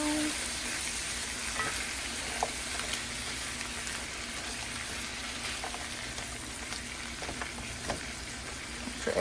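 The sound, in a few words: stirring vegetables and noodles cooking in a pan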